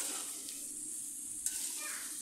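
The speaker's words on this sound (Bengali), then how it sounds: "এবারে এই সবজির সাথে মসুর ডালগুলোকে ভালো করে মিশিয়ে নিতে হবে।" Red lentils are stirred into spinach and vegetables in a pan, giving a soft continuous sizzle with a light scrape partway through, close and fairly quiet.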